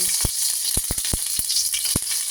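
Garlic sizzles in hot oil for chicken tinola, a bright continuous crackle and hiss up close, broken by several sharp utensil taps against the pan.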